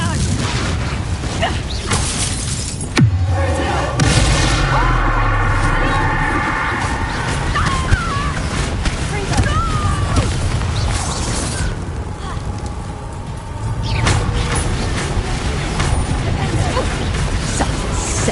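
Confringo fire spell exploding in a Hogwarts Legacy duel, a loud booming burst followed by crackling, creaking magical effects and sweeping tones, with occasional game voices.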